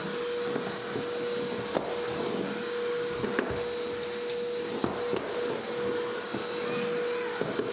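A shop vac runs loud and steady with a constant droning hum, joined by occasional knocks and thumps as it works, no voices over it.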